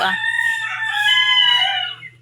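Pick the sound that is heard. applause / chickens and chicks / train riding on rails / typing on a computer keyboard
chickens and chicks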